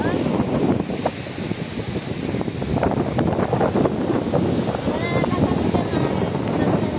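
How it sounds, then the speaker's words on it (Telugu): Waves and gusting wind at Tenneti beach in Vizag, a loud, continuous roar of surf with rough wind buffeting across the microphone and no clear pauses. "ఈరోజు మేము బీచ్కి వచ్చాము"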